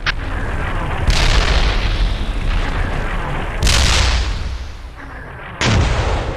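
Incoming gunfire and artillery in the Steel Beasts Pro PE tank combat game: three loud, booming blasts land a few seconds apart over a constant rumbling battlefield background.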